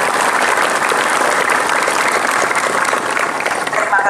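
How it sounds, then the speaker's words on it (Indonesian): Steady, dense applause from a crowd honoring a school achievement in a district-level competition in Cilacap, loud and sustained throughout with no break. "Tepuk tangan untuk prestasi."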